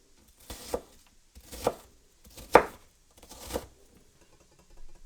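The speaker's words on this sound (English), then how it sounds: "I had 2 slices of red onion in the fridge that I'm just going to chop up to be in my guacamole" Four separate, evenly spaced knife chops on red onion slices against a cutting board, close and crisp, with quiet gaps between them.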